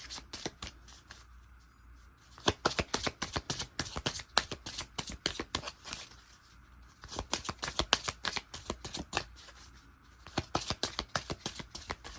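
A deck of cards riffle-shuffled close up, three rapid crackling bursts of fluttering cards separated by short quieter pauses, no talking.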